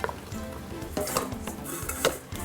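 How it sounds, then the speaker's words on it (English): Cranberries at a full boil in a pot give off a dense, steady crackle of small pops and bubbling, close and continuous with occasional brighter snaps. "And the cranberries have come to a nice full boil. You can hear them popping."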